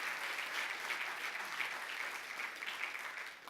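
A church congregation applauds the Lord, a sustained, even wash of many hands clapping, moderately distant and fairly soft, with no speech over it.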